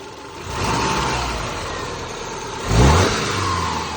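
A Subaru Baja engine revs hard at full throttle, a loud, close, steady roar that surges again near the end, with no voices.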